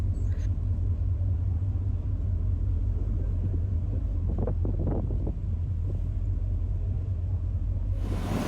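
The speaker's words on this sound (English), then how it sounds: "Very windy and it's a bit rocky" Steady wind buffets the microphone over the low drone of a ferry's engine, continuous and rumbling, with a brief burst of rushing air near the end, on a rough crossing.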